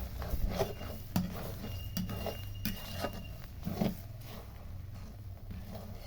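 Chicken pieces frying in a pan as they are stirred, with scraping and clinking of a utensil against the pan over a low, steady sizzle, close up and with no voices.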